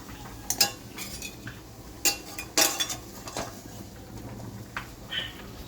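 Metal utensils clink and scrape against a bowl as cooked taro greens with shrimp are scooped over, a few sharp taps spread between softer scraping, close by and moderately loud.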